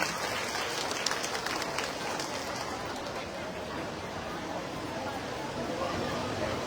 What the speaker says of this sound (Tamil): கொஞ்சம் கைதட்டுங்க.